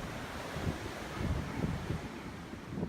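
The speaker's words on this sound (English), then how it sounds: "Hearing the sea crash in from the other side made it easy to relax and think." Sea waves surging against the rocky coast near Merlin's cave at Tintagel, Cornwall, heard as a steady low roar with irregular swells and wind buffeting the microphone, no voices.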